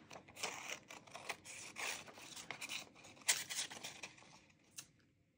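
Scissors cut through a paper junk journal card in close, crisp snips and rasping strokes, a busy uneven series that tapers off quietly at the end.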